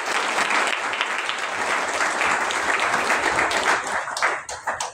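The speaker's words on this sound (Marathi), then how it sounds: "आपण या सर्वांचं टाळ्या वाजवून" A dense, steady wave of audience applause fills the hall at a religious discourse gathering in Mumbai, holding strong before tapering off with a few last claps.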